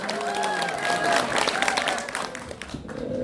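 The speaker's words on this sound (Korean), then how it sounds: "여러분들 뜨거운 격려 박수 한 번 더 부탁드리겠습니다" Audience applause and cheering at a community event honoring a vice-president in Guro, steady dense clapping with some voices mixed in, fairly close and loud throughout.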